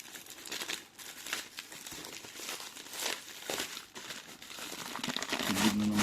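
Close crinkling and crumpling of packaging, with occasional tearing of tape, as a taped parcel is unwrapped in irregular bursts.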